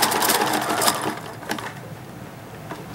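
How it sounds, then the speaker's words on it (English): Sewing machine running a stay stitch and zigzag along the seam of American Girl doll panties, a close, steady mechanical whir with brief pulsing bursts of stitching. "going to stay stitch at the beginning, go back to the"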